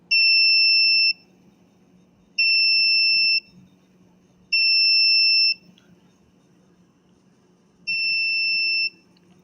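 On a smart parking prototype, an ultrasonic distance sensor's alarm sounds four loud electronic beeps, each about a second long, with gaps of a second or more between them, over a quiet hum.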